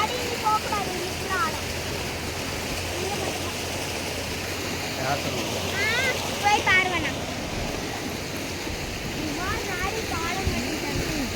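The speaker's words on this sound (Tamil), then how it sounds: "உங்க தண்ணி பாரு எப்படி அடிக்குது" Steady rushing water gushes continuously from Aliyar Dam in Pollachi at moderate volume, with a few faint voices and chirps scattered over the broad wash of noise.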